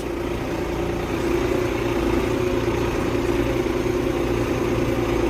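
Tractor engine labouring steadily while climbing a steep field with an 800 kg implement hitched behind, a loud, continuous low drone that holds without pause, close to the listener.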